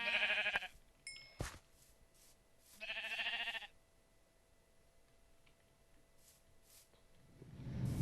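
Sheep bleating in a video game, two loud bleats near the start and another around the middle, separated by near silence with faint ticking, then a low rumble rising at the end.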